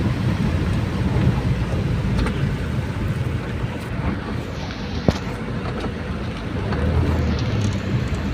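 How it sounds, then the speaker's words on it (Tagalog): Heavy rain pours steadily with a dense roar, while thunder rumbles low underneath and a sharp crack sounds briefly partway through. "Grabe ulan."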